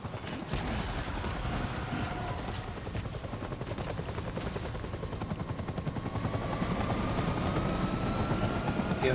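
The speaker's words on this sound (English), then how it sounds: "Oh, it's a helicopter." Helicopter in a video game, a steady rotor thrum running throughout at a fairly loud level, mixed with dense rapid gunfire-like bursts and game effects, no talk.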